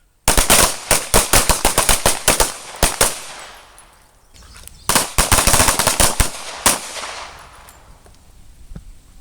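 Handgun shots in a combat shooting drill crack out in two rapid volleys of sharp, loud reports, the first long string followed by a pause and a shorter second burst, with ringing tails that fade after each volley.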